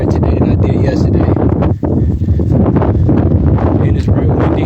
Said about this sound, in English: And it's real windy.